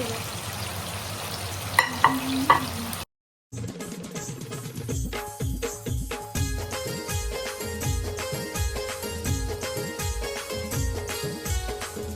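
Bombil (Bombay duck) coated in rava sizzles in oil on a tawa, a steady close crackle that cuts out briefly before resuming, denser and busier, with a faint tonal layer behind it.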